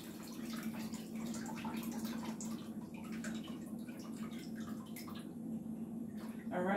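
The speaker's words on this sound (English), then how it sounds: "Rinse off the rice." Tap water runs steadily while jasmine rice is rinsed, a soft continuous splashing and trickling at low level, with a voice talking over it.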